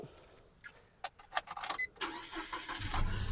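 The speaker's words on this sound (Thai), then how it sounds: "เดี๋ยวเราไปดูในส่วนห้องเครื่องฟังเสียงเครื่องยนต์กันบ้างครับ" Nissan Almera 1.2 from 2013: a few faint clicks and key sounds, then the engine cranks briefly and starts into a quiet, smooth idle, heard up close.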